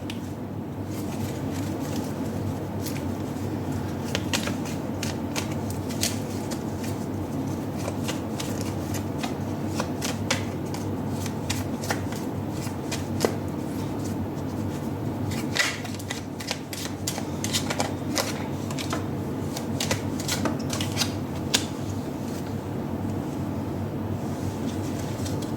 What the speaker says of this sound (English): I'm going to live shuffle your cards as well before we begin.